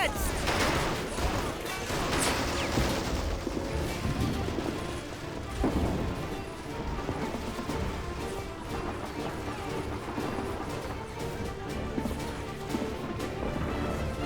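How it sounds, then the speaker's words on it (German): Airstrike explosions and gunfire in the World War II strategy game Men of War: Assault Squad, a dense, continuous barrage of loud blasts and rapid shots crashing without pause throughout. "Airstrike, jawohl."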